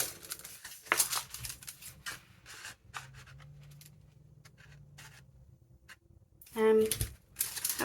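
Scissors cutting through junk mail envelope paper, a few short snips and crisp paper rustles near the start and end, close but soft, with quiet talk in between.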